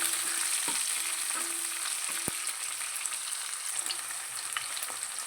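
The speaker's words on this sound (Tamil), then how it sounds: "போட்டு நல்லா பொன்னிறமாக வரைக்கும் கொஞ்சம் நேரம் வணக்கி விடலாம்." Onion, curry leaves and dried red chilli sauté in hot oil for a dal kuzhambu, a steady close crackling sizzle running throughout with scattered small pops and one sharp tap of a spoon against the pan.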